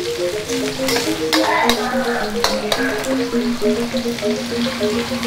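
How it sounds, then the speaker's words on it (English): Big red chilies and Bali hot peppers frying in a pan with half-cooked shallot and garlic, a loud continuous sizzle with stirring scrapes and clatters, and a tonal hum running beneath. "Now I'm going to add the chilies, Bali hot pepper, big red chili."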